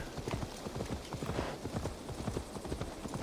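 Horse hooves clip-clop in rapid, even rhythm in Assassin's Creed Valhalla, a close, steady trot over ground with no pause for about three seconds and no talk heard.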